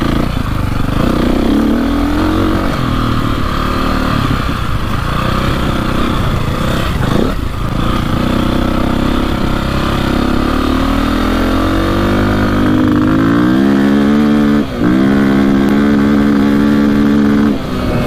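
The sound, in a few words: KTM 450 dirt bike engine revving, hitting rev limiter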